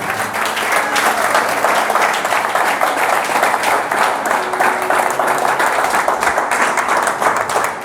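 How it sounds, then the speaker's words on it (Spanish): Sustained applause from a church congregation for the Lord rolls on for several seconds, a thick continuous patter of many hands at steady volume with faint voices blended in. "Denle un aplauso al Señor."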